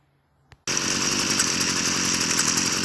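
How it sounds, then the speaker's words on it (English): After a quiet moment and a small click, a gas weed whacker abruptly revs up to trim grass, then holds a loud, buzzing two-stroke whine close by with no voices. "I got to get the old weed whacker here and clean this grass right down"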